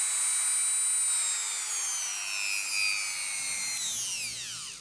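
A pneumatic die grinder runs at its lowest speed, a thin high whine over a faint hiss of air. The pitch slides gradually downward and then drops more steeply as the tool winds down at the end.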